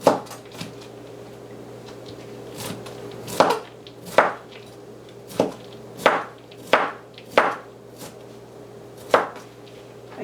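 Knife chopping broccoli and cauliflower into bite-sized pieces on a board, about a dozen sharp, irregular thuds spaced across the stretch with quiet gaps between.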